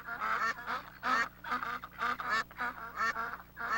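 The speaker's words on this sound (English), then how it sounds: "A family of ducks." Ducks in a family group quacking in repeated harsh, honking bursts, several calls overlapping at close range with short gaps between them.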